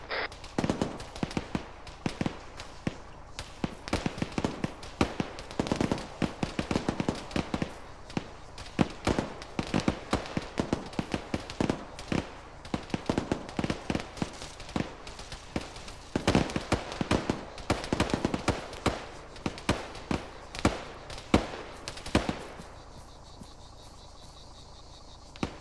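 Rapid gunfire during a training exercise, dense bursts of sharp cracks and pops going on almost continuously, some close and loud, others more distant, before trailing off near the end.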